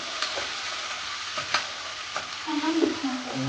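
Chicken stirred in a pan after salt goes in, for a green chicken dish: a steady frying hiss broken by several sharp scraping strokes of the spoon, with a louder bubbling sizzle swelling near the end.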